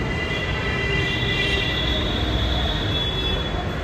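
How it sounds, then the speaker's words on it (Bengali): A metro train rumbles past close by in Gurgaon, India, a loud steady roar of wheels on rails with a faint high squeal, unbroken for the whole stretch. "দেখো এটা হচ্ছে মেট্রো"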